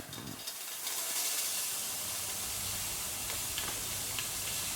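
Onions dropped into a hot pan for a Banjara-style chicken curry hiss and sizzle steadily after a brief quiet start, a broad continuous close sound with faint ticks, no voices.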